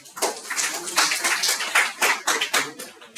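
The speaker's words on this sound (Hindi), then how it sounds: "इसके लिए भी तालियां बजाओ यार" Students in a classroom clap together in a burst of irregular handclaps, a scattered patter of sharp slaps of varying loudness that continues for a few seconds at moderate distance.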